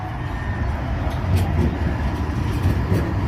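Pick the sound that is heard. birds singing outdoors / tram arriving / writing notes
tram arriving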